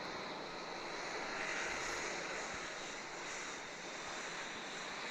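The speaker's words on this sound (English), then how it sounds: "You got a plane? Yeah, that's a Boeing." A Boeing jet flying overhead gives a steady, broad engine roar that holds evenly throughout, with no talk over it.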